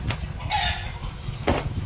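A rooster crows out in the countryside, a clear mid-distance call rising twice over a steady rural backdrop with no talking.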